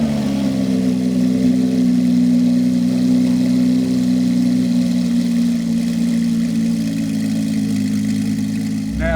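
A Porsche 718 Cayman GT4 RS engine idles just after starting, a steady low droning hum held loud and even for several seconds, with no talking.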